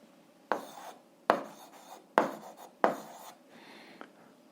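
Pen on paper while an eighth-grade algebra solution is written down: four brisk scratching bursts spaced about a second apart, near and soft, followed by a faint tap, with no voices.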